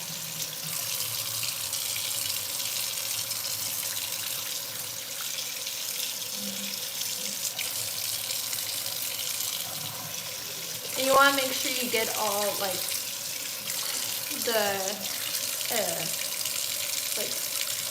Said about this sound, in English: so now in cold water, we're just gonna clean the chicken